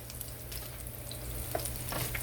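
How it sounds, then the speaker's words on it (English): Steady sizzling of pork chops frying in oil, a constant crackling hiss with a few sharper pops, close by and uninterrupted by voices. "I use a little bit of the oil when I'm frying it."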